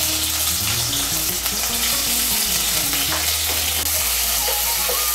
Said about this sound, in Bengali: আদা বাটা আর কাঁচা লঙ্কা বাটাটাকে মিশিয়ে নিয়েছি তেলের সঙ্গে।